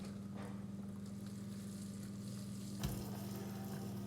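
Lean ground beef sizzling quietly in a pan, a soft continuous frying hiss with a low hum underneath and one brief clatter near the end.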